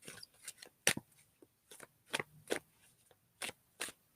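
A deck of Lord of the Rings reading cards is shuffled close by, with quiet irregular bursts of riffling and snapping card edges and no voices.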